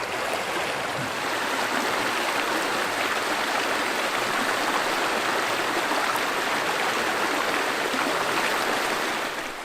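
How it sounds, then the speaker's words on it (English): A small stream in the Superstition Wilderness, a close, steady rush and burble of flowing water that continues evenly for the whole stretch without talk. "just hanging out here by this little stream"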